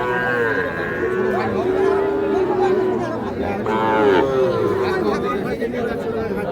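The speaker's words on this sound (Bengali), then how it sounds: "শাহিওয়াল ষাঁড় বাছুর, তবে পার্সেন্টেজটা আছে বেশ ভালো।" Sahiwal bull calf at a busy cattle market, with long low moos rising and falling over the chatter of a crowd and a nearby voice talking.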